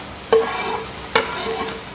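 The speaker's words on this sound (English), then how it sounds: "Now we're gonna put in the garlic." Garlic tossed into a frying pan of browning onions, two brief stirring scrapes over a steady close sizzle.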